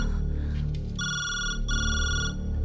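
A telephone rings in two long, loud electronic trills separated by a brief pause, over a steady low background hum.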